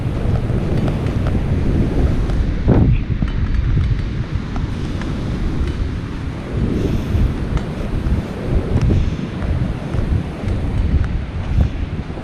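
Ocean surf with 3 to 5 foot swells rolls in at Martin's Beach near Pacifica, California, as a steady loud roar of waves mixed with heavy wind buffeting the microphone.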